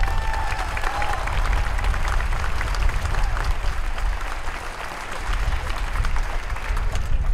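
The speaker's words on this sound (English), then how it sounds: "So let's give them a round of applause as well." Sustained applause and crowd noise at an outdoor child protection rally, a steady wash of many hands clapping with a faint murmur of voices underneath throughout.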